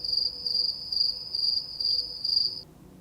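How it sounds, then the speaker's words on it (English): Crickets chirp in steady, evenly spaced pulses, loud and close, before the trill stops and a quiet hiss remains. "crickets, okay?"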